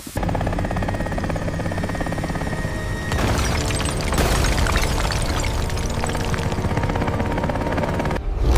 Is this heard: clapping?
no